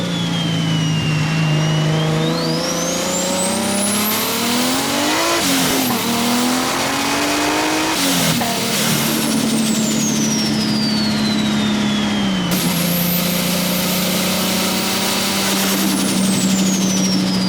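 A turbocharged JDM Lexus IS300 accelerates hard through several gears, engine pitch climbing and dropping at each shift with a high turbo whine on top, loud and close from inside the car.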